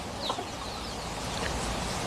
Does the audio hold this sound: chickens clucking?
yes